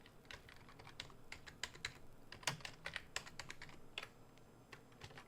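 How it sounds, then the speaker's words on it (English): Rapid typing on a computer keyboard, a quick irregular run of crisp close key clicks over a quiet room background, without speech. "Let's go ahead and type in Halloween Party."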